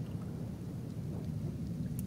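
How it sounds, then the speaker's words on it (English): Steady rain with a low rumble of thunder in an acid rainstorm in the video game Kenshi, a dense continuous wash without a break. "And there's acid rain as well."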